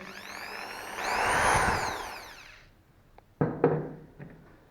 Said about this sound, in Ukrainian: Як бачимо, дриль працює.